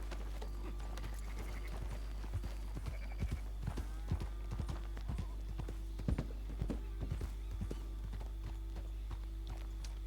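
Horse hooves clip-clopping in the Black Hollow RP ranching video game, an irregular run of soft hoof clops at mid distance over a steady low hum, with a faint whinny.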